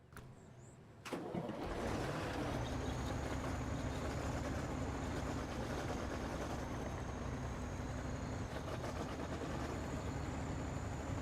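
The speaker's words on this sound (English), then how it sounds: "That's an interesting engine sound." Vehicle engine in The Glades rescue driving game, starting with a brief burst, then running steadily and loudly at a constant pitch with a faint high whine, no talking.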